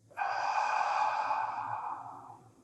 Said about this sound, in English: breathe in and then breathe out